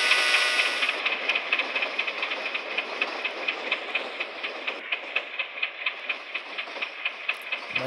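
In the Indian Train Simulator game by Highbrow Interactive, a ten-coach train rolls along with a steady rumble and a regular, repeating clickety-clack from the wheels, without any talking.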